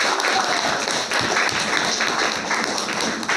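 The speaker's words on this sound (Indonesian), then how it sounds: "Tepuk tangan dong buat kita semua" Classroom applause from a group of students after a closing prayer, a steady dense patter of clapping that continues evenly throughout.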